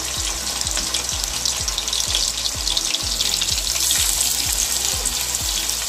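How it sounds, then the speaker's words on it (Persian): Fish frying in oil over a low flame, a steady close sizzle with a constant hiss and no voices, part of cooking a traditional Gilani sour fish dish. "در حینی که پیازتون آماده داره میشه، ماهیاتون سرخ کنید با شعله کم"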